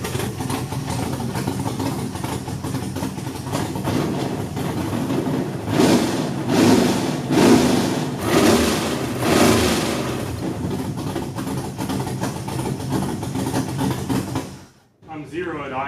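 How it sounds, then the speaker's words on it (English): LS V8 engine swapped into a Datsun 280Z idling in a shop, a steady loud rumble with a few swelling revs partway through before it cuts off abruptly near the end. "Finally, we have 8 cylinders firing."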